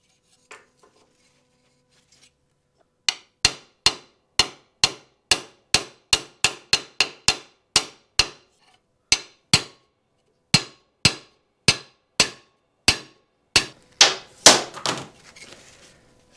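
A hammer strikes a socket to seat a crankcase bearing on a Stihl 041 chainsaw engine, with about twenty sharp metallic blows in a steady rhythm, close and loud, the final hits quickening and ringing more solidly.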